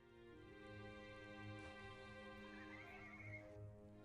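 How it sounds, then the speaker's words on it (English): Faint horse neighing in the video game The Silver Lining, a soft whinny set under a steady musical drone and ambient hum, with no talking. "I hear horses in the background"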